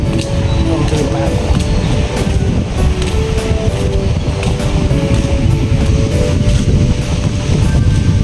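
Steady wind gusting across a long wooden bridge stretching out over the sea of the Gulf of Thailand, with surf and broadband rush filling the whole clip and someone speaking over it.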